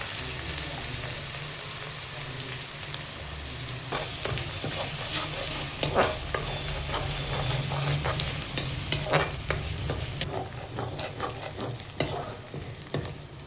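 Ginger-garlic paste fries in coconut oil in a pot with a steady, close sizzle. Scraping and stirring clinks grow busier partway through, and nobody speaks.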